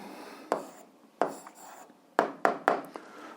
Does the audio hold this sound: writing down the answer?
yes